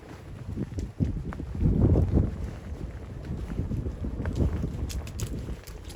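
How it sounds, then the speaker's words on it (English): Gusty wind on the Great Ridge in the Peak District buffets the microphone in loud, uneven rumbling bursts, rising and falling throughout, with no speech. "Although it's still quite windy"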